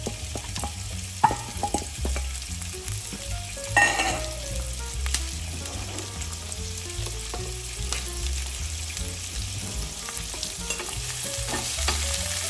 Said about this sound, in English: Let's saute the onions.